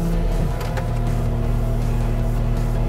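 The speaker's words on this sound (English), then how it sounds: "go to the ignition, start the machine" A Cat standard flow mulcher's machine engine runs with a steady low diesel drone and rumble, a brief rougher burst near the start as it catches, then a continuous even idle.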